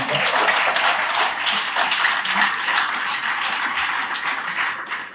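An audience at a skills convocation ceremony applauds to welcome an award recipient, dense steady clapping that fills the room for several seconds, with no speech over it.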